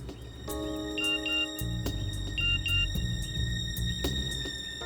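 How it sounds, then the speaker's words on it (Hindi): An electronic ringtone plays a repeating melodic pattern of beeping tones over a low musical background, continuing steadily. "फोन बजा।"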